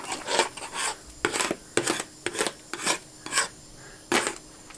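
A hand scraper rasps barnacles off a boat hull in repeated short strokes, about eight gritty scrapes in a steady rhythm, close and fairly loud with brief pauses between, no talking.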